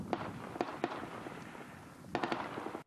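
Sharp gunshots ring out at a distance on a front line, a few single small-arms cracks early on, then a tighter burst of heavier-weapon shots near the end.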